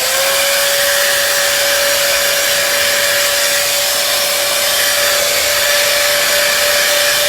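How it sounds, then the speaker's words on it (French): A hot air brush styler blows loudly and continuously at close range while drying hair, giving a steady whooshing roar with a constant motor whine. "Donc là, déjà, je vais me sécher les cheveux."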